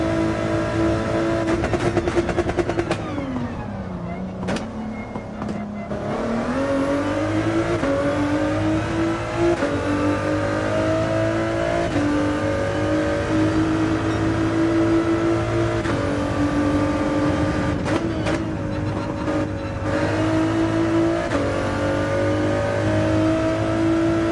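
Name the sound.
race car engine revving in a racing video game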